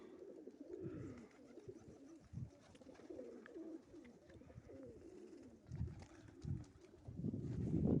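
Racing pigeons coo softly at a loft on a sunny day, low murmuring calls repeating through the clip with occasional soft flutters and bumps, moderately near and not loud.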